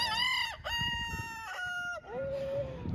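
Chickens and a rooster on a farm, the rooster crowing in long rising-and-falling calls over steady clucking, fairly close and clear with no talk.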